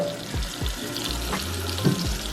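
Beef roast cooking in a pan, a constant close sizzle and crackle with a few soft knocks and bumps, no talking.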